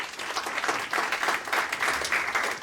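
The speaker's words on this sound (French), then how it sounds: "Est-ce qu'on peut acclamer la parole du Seigneur ce matin?" A church congregation applauds during a Sunday service, a steady dense wash of clapping from many hands that keeps going without pause, filling the room with no voices over it.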